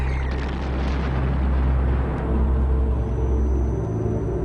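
A huge explosion on Bell Island roars as a continuous, loud low rumble with dense broadband noise, sustained throughout without a clear start or end, with no talk.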